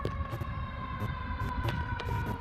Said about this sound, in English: And here comes the dang ambulance.